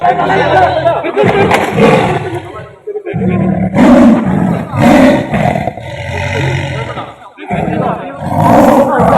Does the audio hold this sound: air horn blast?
no